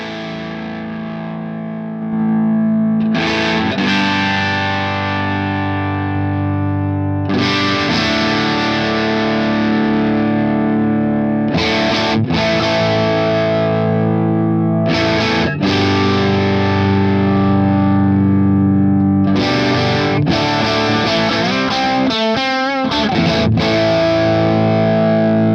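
Electric guitar through a Two Notes Torpedo cab simulator with the SM57 mic muted. The tone is heavily distorted and layered with effects, with loud sustained chords and riffs ringing for about twenty-five seconds and no talk.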